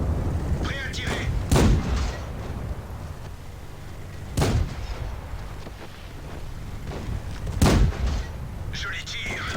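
A tank gun fires three times in World of Tanks, each a heavy, booming blast with a rumbling tail, spaced a few seconds apart, over steady engine drone, with a voice speaking in between.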